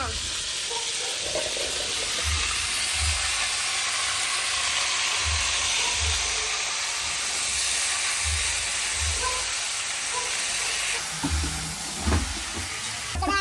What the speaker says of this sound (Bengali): আলুটা ভাজা হয়ে গেছে এখন দেবো কুমড়া